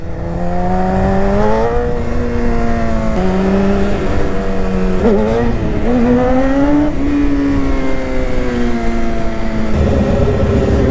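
BMW S1000RR motorcycle with a loud aftermarket exhaust, its engine droning steadily close by, pitch rising and dipping through repeated revs and gear changes for about eleven seconds with no talk.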